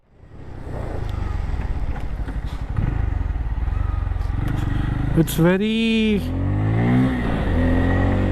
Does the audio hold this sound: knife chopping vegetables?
no